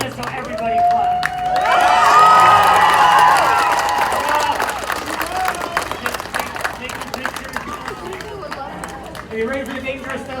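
An outdoor crowd at a fire eating and juggling show on Clearwater Beach claps and cheers in a sustained burst, loud and close, then thins into scattered claps with someone talking over it.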